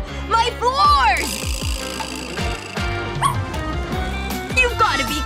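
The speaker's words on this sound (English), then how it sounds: "Get that dog out of here!" A small dog barks and yips over cartoon-style background music, with several quick, loud, high-pitched yelps and whimpers spread across the scene.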